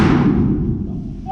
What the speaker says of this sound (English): I'm guessing that would be a methane explosion.